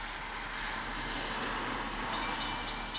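An old town train approaches fast, heard as a continuous broadband rumble and rush with faint metallic clicks toward the end and no voices.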